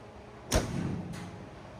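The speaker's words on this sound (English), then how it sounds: "Doors open and shut nice." A single solid thunk of a restored 1969 Chevrolet C10 pickup truck door shutting close by, followed by a fainter second click about half a second later, with quiet outdoor ambience.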